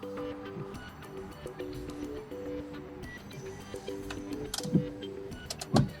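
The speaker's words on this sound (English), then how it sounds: "Simply push this lever upwards to enable front wipers in mist mode." Front windshield wipers on a 2014–2018 Fiat 500X crossover running in mist mode: a whirring electric motor hum with repeated mechanical tones and rubbery swishes as the blades sweep across the glass, heard up close and without talking.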